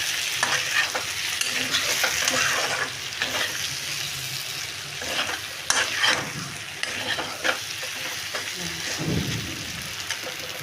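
Brinjal (eggplant) fries in butter while being stirred, a loud continuous sizzle and crackle close by, punctuated by repeated scraping and clinking strokes of the spoon against the pan.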